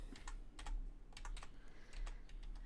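Quick, irregular clicking of computer keyboard keys while a player works the controls of an indie game at a game jam, fairly close and steady, with no voices over it.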